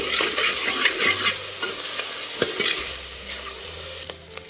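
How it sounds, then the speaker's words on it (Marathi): Goat fat frying with onions and rendering its oil in a pan, a dense steady sizzle with occasional soft stirring scrapes, loud and close, no voices. "थोडीशी आता याच्यामध्ये आपण बकऱ्याची चरबी टाकून देऊ, ह्याचं तेल सुटणार"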